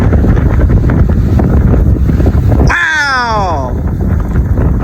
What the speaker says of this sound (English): look at that inflow wind